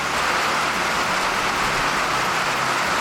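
Heavy rain pours down steadily outdoors as a dense, loud, unbroken hiss that barely changes for the whole stretch.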